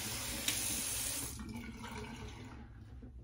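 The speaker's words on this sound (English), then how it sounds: "And rinse my hand there." A tap runs into a sink while a hand is rinsed of shaving soap lather, a steady close rush of water that cuts off near the end, leaving a quiet tail.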